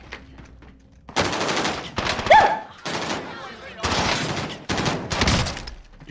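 Bursts of OTS-9 gunfire from a video game, five or six loud rapid volleys separated by short gaps, with a voice heard among them.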